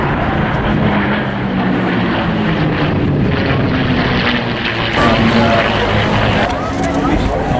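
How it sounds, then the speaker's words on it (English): A MiG-15 UTI jet flies at the Scottish International Airshow, its steady engine roar loud and sustained, swelling slightly partway through, with people talking over it. "Is the incredible MiG-15 UTI."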